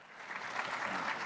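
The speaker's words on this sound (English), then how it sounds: "You can applaud." Audience applause for a panel taking the stage at a conference, a steady dense clapping from a crowd that swells slightly and holds through the whole short stretch with no voices.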